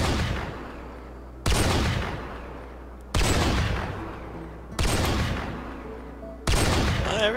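Sniper rifle gunfire in the Rimworld video game: four loud, booming shots roughly every one and a half seconds, each with a long decaying tail, over steady background game sound.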